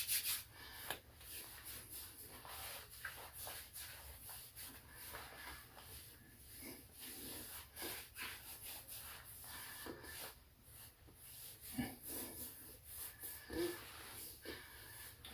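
Hands rubbing moisturizer oil together, soft close-up swishing and skin-on-skin friction in uneven strokes, quiet and alone with no talk.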